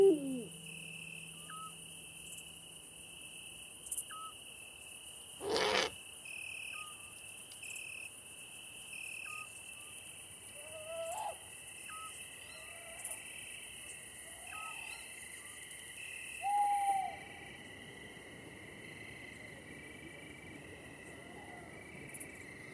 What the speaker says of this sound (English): The eagle owl bears off its prey to eat in its nest.